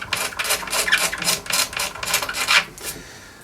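A brand-new blade scrapes along the edges of old leather like a card scraper, about ten quick rasping strokes in an even rhythm, close and clear, fading at the end.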